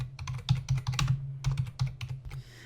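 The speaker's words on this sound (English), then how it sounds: "And what you wanna do is type in create partition primary." Fingers typing a command on a computer keyboard, a quick close-up patter of clicking keystrokes in an uneven rhythm, with no voices.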